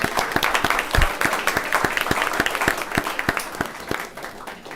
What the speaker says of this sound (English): If we'll give them a round of applause.